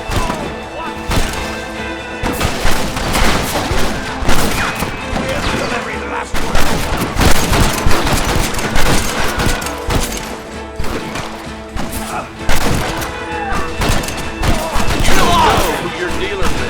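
Sustained gunfire from a Red Dead Redemption firefight with the United States Army, dense overlapping shots and crashes filling the scene while shouting voices cut in over the barrage.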